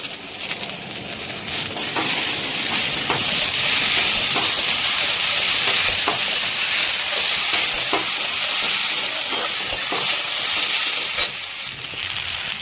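Pasta frying in a pan with ordinary tomato sauce, a continuous loud hissing sizzle that holds steady for over twelve seconds, with occasional stirring scrapes and no talking.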